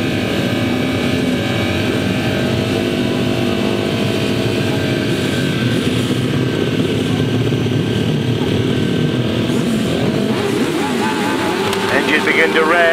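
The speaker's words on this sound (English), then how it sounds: "Engines begin to rev." Sidecar grasstrack racing outfits sit revving at the start line, a dense layered drone of several engines held loud and steady, rising into sharper revs near the end.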